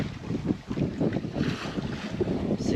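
A sailboat under sail in light wind, moving slowly on open sea between Lipari and Cefalù, with steady wind buffeting the microphone and soft water swishing along the hull throughout.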